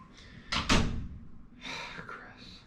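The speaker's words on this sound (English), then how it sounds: "shut the door on your way out" Door of a room shut in one solid thump, close, followed by faint soft background sounds.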